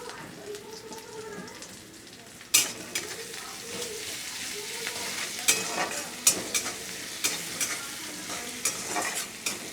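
Onions sizzle steadily in a hot pan after salt is added, with sharp scraping stirs of a spatula breaking through the frying hiss; no one speaks.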